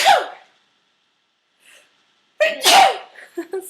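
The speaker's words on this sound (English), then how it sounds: "I sneeze really loud." Two loud, close sneezes, one right at the start and a second, sharper one after a pause, each a forceful burst of breath with a trailing gasp.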